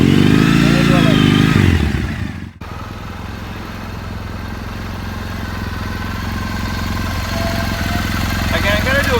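A motorcycle engine idles, then revs slightly and pulls away from a standstill as the clutch is released, a steady mid-pitched drone continuing close by, with a voice talking over the start.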